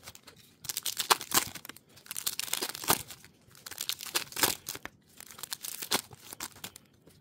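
Foil wrappers of 2024 Bowman Chrome trading card packs being ripped open up close, several rapid crinkling tears in separate bursts with short quiet gaps between them.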